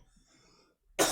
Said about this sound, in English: stop coughing on me